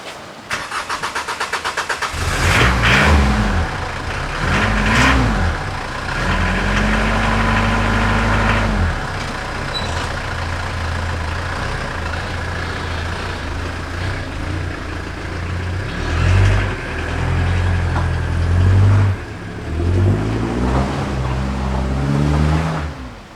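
A vehicle's engine starts up and runs, revving a few times before settling into a steady, loud drone as it sets off on an hour-and-a-half drive on a miserable day, with later surges in engine pitch and no voices.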